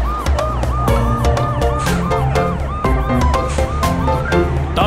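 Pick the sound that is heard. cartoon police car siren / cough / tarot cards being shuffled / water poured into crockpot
cartoon police car siren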